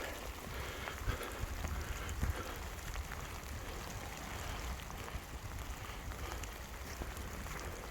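Steady rain falls during a winter riverside hike, a dense continuous hiss of drops on surfaces, fairly close and even throughout, with no talking.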